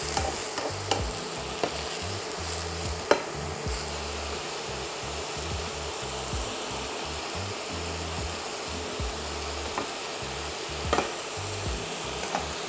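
Mushrooms cooking in a pan produce a steady, close sizzle that runs throughout, dotted with a few sharp ticks and light utensil knocks, with no talking.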